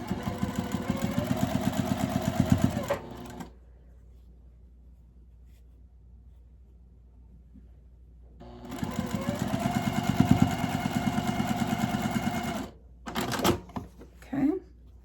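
A sewing machine stitches quilt pieces in two loud, rapid runs of mechanical whirring and needle clatter, separated by a quiet pause, with a few short bursts of stitching at the end.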